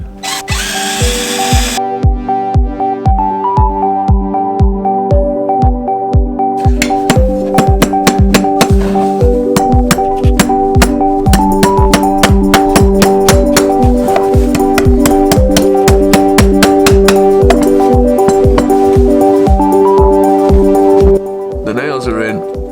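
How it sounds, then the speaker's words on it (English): A power drill bores pre-drilled nail holes into a horseshoe, its motor whirring and stuttering in rapid pulsing bursts that run almost continuously, loud and close, with a person talking over it. "I'm going to drill these holes so that when we apply the shoe and the nails go in, the holes are already pre-drilled."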